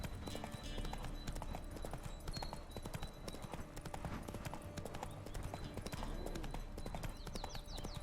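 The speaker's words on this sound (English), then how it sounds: "Come here, Roach" A horse's hooves clip-clop in the Witcher 3 video game, a quiet, steady trotting rhythm of rapid repeated hoof strikes running throughout, with no talking.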